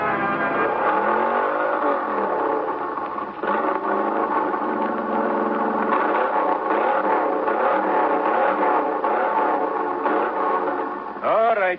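An engine roars steadily at full throttle in an old-time radio drama, its loud sustained drone swelling with several surges and rising sweeps near the end, filling the scene without pause.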